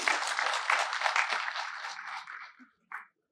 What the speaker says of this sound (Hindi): आपका सबने तालियां बजाकर अभिनंदन करना चाहिए